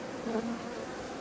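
Honeybees hum in a steady, close drone at an open hive during oxalic acid treatment, the buzzing swelling briefly before settling into a constant low whir with no talk.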